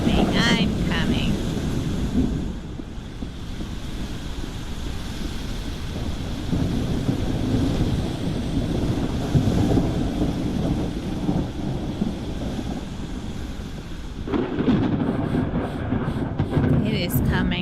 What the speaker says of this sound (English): It is coming out there hard right now. And it's raining crazy here too.